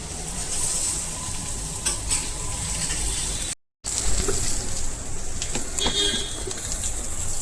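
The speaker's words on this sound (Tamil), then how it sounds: "இப்போ இதை அப்படியே நான் வறுத்துக்கிறேன்." Fish frying in a pan during home Tamil cooking, with a loud, steady sizzle and bursts of stirring and spattering throughout, broken once by a brief dropout midway.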